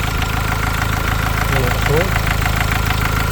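A used car's engine idling at a used car market in Fez, a steady low rumble running throughout while someone speaks briefly over it.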